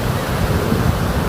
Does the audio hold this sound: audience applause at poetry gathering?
no